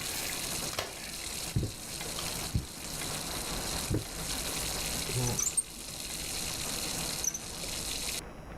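Water running from a bathroom tap in the horror game Layers of Fear, a steady hiss that goes on throughout, with faint thumps and clicks on top.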